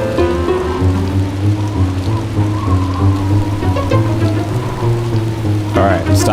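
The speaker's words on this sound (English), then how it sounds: "Alright, stop playing the storm sound effects." Steady storm rain from the PC horror game The 11th Hour (1995), a continuous wash of falling rain under a low droning musical bed, loud and unbroken throughout.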